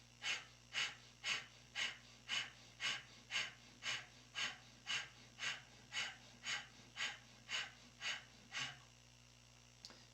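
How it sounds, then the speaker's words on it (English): Rapid breath of fire during a Kundalini yoga back routine: about seventeen quick, evenly spaced, forceful nasal exhales, close and clear, that stop abruptly near the end, with no talking. "Breath of fire, 1 minute."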